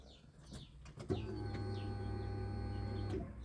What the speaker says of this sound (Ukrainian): Ось так працює бензонасоси